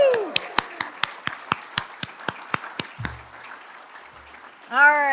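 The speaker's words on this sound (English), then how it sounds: "on the count of 3, we're gonna clap and holler woo-hoo for small business" Audience at a small-business community event claps in a quick burst of about a dozen sharp, evenly spaced claps that fade out, followed near the end by a brief shouted whoop.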